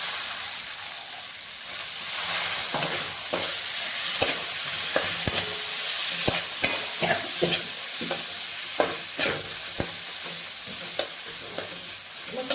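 Whole masoor lentils sauté in roasted spices for a usal, with a continuous sizzle and a steady series of close spoon scrapes and taps against the pan.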